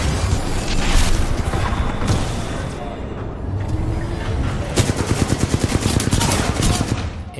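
Devotion energy machine gun firing in Titanfall 2, loud sustained automatic bursts whose rate climbs into a rapid, tightly spaced rattle near the end, with someone talking over the shooting.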